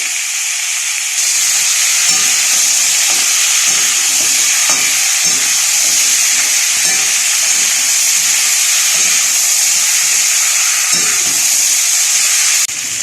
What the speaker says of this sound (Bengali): ওই তেলে দিয়ে আমি সবজিগুলো ভেজে নিচ্ছি